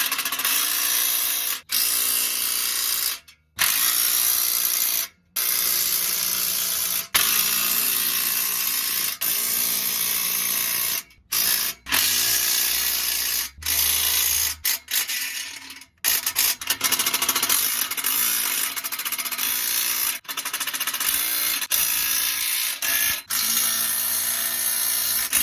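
An impact gun fastens an exhaust muffler during a resonator install, its loud, rattling mechanical buzz firing in long runs broken by brief pauses and short stops.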